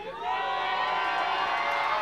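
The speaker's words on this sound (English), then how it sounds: "And the crowd loves it. They clap for him." A wrestling crowd at an SICW Wrestling Explosion show roars and cheers steadily, with whoops and shouts blending into a continuous wall of noise that fills the whole moment.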